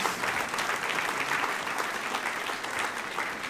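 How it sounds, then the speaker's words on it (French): Church congregation applauding after a call to say Amen, a steady, dense wash of clapping filling the space without a break, with no clear voices rising above it. "Et que tous ceux qui le croient disent Amen et applaudissent."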